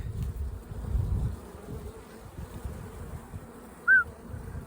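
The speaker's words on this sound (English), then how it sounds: "Bees, bees, bees. Lots of bees, a little cranky." Honeybees at an open, unfed colony buzz in a dense, continuous drone, close and fairly loud, with a brief louder pass near the end as one flies past.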